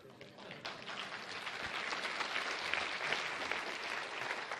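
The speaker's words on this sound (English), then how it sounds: "Yes, you can clap for Yeshua." An audience at a religious talk breaks into clapping that builds from a scattered start into full, steady applause, close and dense, with no voices over it.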